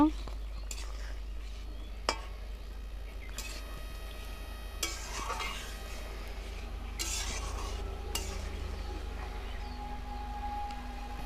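Cashew and melon seed paste is stirred into a simmering rui fish curry, with sparse utensil clinks and scrapes against the pot over a low steady hum and a faint sizzle.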